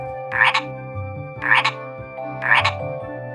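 Frog croaking as a sound effect in a children's folk tale, three evenly spaced loud croaks about a second apart over a soft sustained musical drone, close and clear with no talking.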